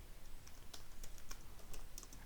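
Java code being typed on a computer keyboard, with quiet, irregular key clicks in short runs over a low room hiss, close but soft and with no voice.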